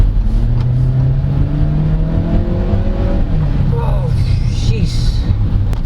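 A 2023 Ford Territory Titanium X accelerating hard to overtake, its engine note climbing steadily under loud, constant road and cabin noise, with someone talking over it.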